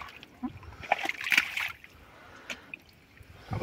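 Clean water splashing from an old fountain spout outdoors, uneven splashes and trickles of moderate loudness coming in bursts, with soft background noise between them.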